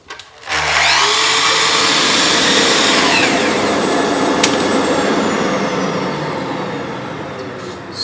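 A power saw starts up and bites into a wooden board, a loud sustained whining cut after a brief motor spin-up, tapering slightly toward the end.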